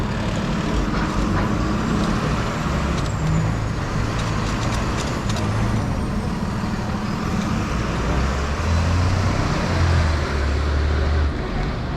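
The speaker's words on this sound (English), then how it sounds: "I think we'll let this big truck go and then squeeze onto it." A big truck passes on a road, a loud, sustained engine rumble with broadband traffic roar that holds steady, heard up close from a bike at the roadside.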